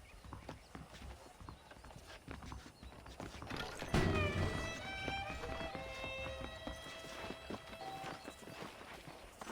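Horse hooves clip-clop steadily on hard ground in Red Dead Redemption, with a horse whinnying and creaking saddle tack amid a busy outdoor scene.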